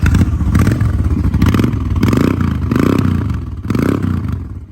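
A 2003 Honda Shadow motorcycle engine cranks, catches and runs nearby, loud and rough, with a rhythmic throbbing pulse and some mechanical clatter.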